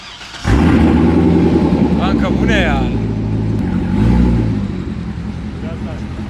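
A Corvette engine revs loudly and steadily as the gas pedal is pressed by a six-year-old, a sustained close roar with a slight swell near the middle, while people talk over it.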